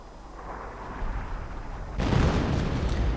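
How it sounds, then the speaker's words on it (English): Artillery fires in the real-time strategy game Wargame: a steady low battle rumble that swells sharply partway through into a louder, denser barrage, with no talking. "And artillery firing towards here"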